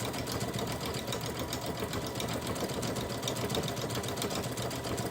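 A sewing machine runs steadily with a circular stitching attachment, its needle chattering in a fast, even rhythm close by, continuous and alone without pauses or voices.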